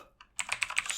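Rapid keystrokes on a computer keyboard while entering JavaScript code, a single tap followed by a close, steady burst of clicky typing with no talking.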